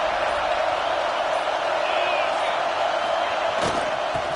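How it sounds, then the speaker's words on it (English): Steady, dense crowd roar fills a college football stadium in the final minute of regulation before a key play. It holds loud and continuous throughout, with a brief swell near the end. "The crowd is really getting into it."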